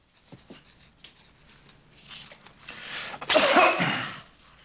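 A cough in a film scene: faint shuffling and small movements, then a loud, close burst of coughing near the end.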